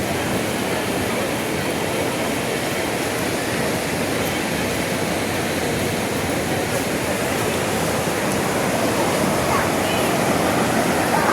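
Heavy rain pours over the sea beach at Digha at dawn, a dense, loud, continuous roar of falling water and surf that stays even for the whole stretch, with no voices heard.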